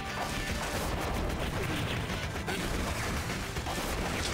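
Dense, continuous barrage of explosions and gunfire from the side-scrolling shooter game Blazing Chrome, loud crashes and blasts piling over each other with no pause.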